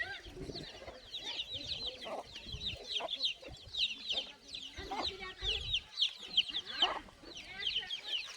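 Free-range country chickens on a farm cluck and squawk in repeated bursts, some near and some farther off, with soft murmured voices and rustling underneath.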